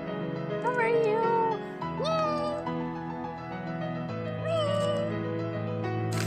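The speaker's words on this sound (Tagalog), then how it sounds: "Ang daming mga pusa dito." Several cats meowing in repeated, drawn-out cries one after another, close and clear, with faint background murmur between calls.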